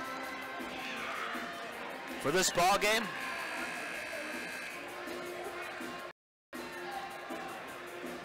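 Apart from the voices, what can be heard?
student section cheering at basketball game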